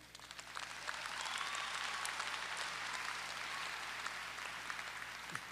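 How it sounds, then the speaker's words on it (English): Faint, distant applause swells from a large audience at the 2013 Hofstra undergraduate commencement, a soft continuous wash of clapping that lasts several seconds, with no voices over it. "you don't have to applaud."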